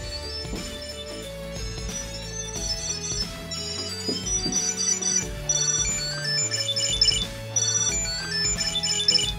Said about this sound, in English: Let's go ahead and ring it.